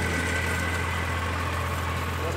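Modified Massey tractor engine running at a steady idle, a constant low rumble with a faint rattly texture, close and continuous.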